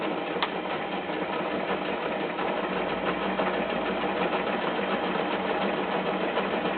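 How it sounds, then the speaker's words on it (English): A sewing machine stitches fabric a couple of millimetres from the edge of a fold while an Easter bag is sewn. The motor gives a steady, close, even whirring hum throughout, alone and without speech. "I'm going to stitch just a couple of millimetres from the edge of the fold"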